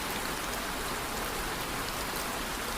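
Gentle rain falling over a medieval village, a soft, even hiss of drops pattering steadily throughout with no breaks and no voices.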